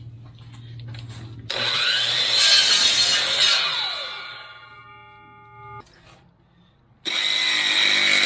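A cordless power tool cuts a notch in a tool rack with a loud, close whine lasting a few seconds, then spins down with a falling tone before starting up again at full speed.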